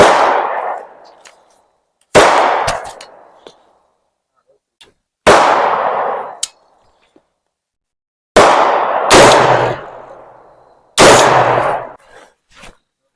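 Shots from an AR-15 rifle firing 5.56 green tip rounds at a vest, heard as five loud, sharp cracks spaced a few seconds apart, each ringing briefly, with a faint clatter between some of them.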